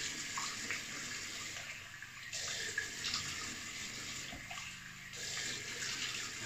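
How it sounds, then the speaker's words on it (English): A tap runs cold water into a sink before shaving, a steady close splashing flow, briefly interrupted twice as hands cup water to wet the face. "going to wet the face, just cold water."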